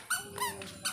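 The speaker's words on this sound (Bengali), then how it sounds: "ডগি, ওই যে ডগি আসছে।" A dog gives a few short, high squeaky whines in quick succession, close by and fairly loud, all within under a second.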